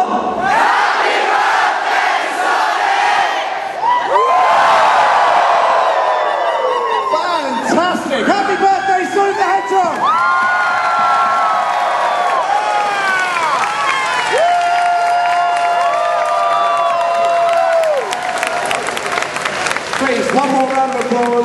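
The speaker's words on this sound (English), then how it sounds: "One more round of applause for Senoue-san, Iizuka-san, and Naka-san" A large indoor crowd cheers and shouts loudly at a Sonic Generations event, with applause and scattered whoops rising and falling throughout.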